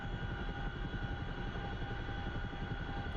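A CH-47F Chinook twin-rotor helicopter cruises in the DCS flight simulator, giving a steady, dense engine and rotor drone that stays even and continuous throughout, with no talking.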